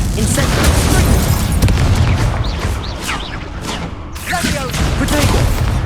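Incendio fire spell cast in Hogwarts Legacy, a loud booming burst amid continuous dense combat noise and whooshing effects, with game music and voices mixed in.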